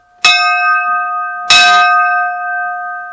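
A large bell, rung by pulling at a historic railroad museum, struck twice, each ring sounding out with bright, long-sustaining overtones that hang and slowly fade.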